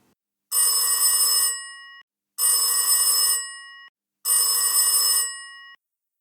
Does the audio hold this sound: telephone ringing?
yes